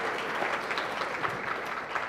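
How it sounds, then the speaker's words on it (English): Audience applause for a musical guest at a spiritual community gathering: steady, moderately distant clapping from a group, continuous throughout with no talking over it. "please give a great, great round of applause to our musical guest today"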